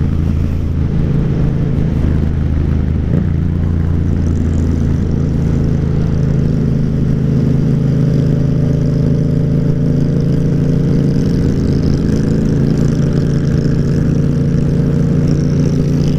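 Steady, loud drone of a Yamaha MT-07 ABS motorcycle engine at highway speed, heard close with constant wind rush and slow, subtle shifts in pitch as the bike cruises.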